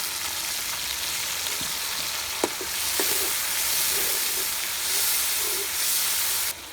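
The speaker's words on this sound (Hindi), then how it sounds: "अल्हम्दुलिल्लाह मसाला फ्राई हो गया है।" Masala paste with garam masala frying in a pan, a steady hissing sizzle with a few sharp taps of a spoon, close and unaccompanied by voices.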